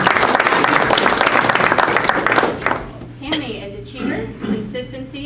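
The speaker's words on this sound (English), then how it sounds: "so let's clap for her." An audience at a leadership institute graduation ceremony applauds briskly for a couple of seconds, then the clapping fades into scattered voices and a speaker talking.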